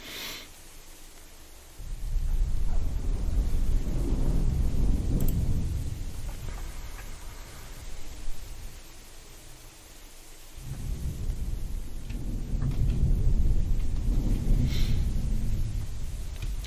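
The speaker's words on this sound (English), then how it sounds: "we just had a lightning strike down here" Deep rolling thunder from a lightning strike during a storm in the video game Rise to Ruins, two long rumbling swells separated by a quieter lull, loud and low, with no talking.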